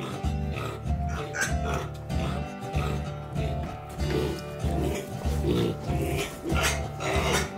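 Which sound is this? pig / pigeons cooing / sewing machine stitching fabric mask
pig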